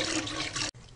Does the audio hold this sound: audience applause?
no